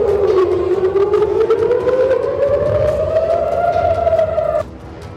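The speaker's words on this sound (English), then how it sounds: "Bomb sirens followed Israeli forces intercepting a ballistic missile from Lebanon." A loud air raid siren in Israel wails steadily during a ballistic missile interception, its pitch rising slowly before cutting off abruptly near the end.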